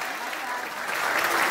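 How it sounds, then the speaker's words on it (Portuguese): Applause from an audience at a gathering of trailer campers in São José do Barreiro, Brazil, a brief, continuous, fairly close wash of clapping with voices mixed in. "Uma salva de palmas."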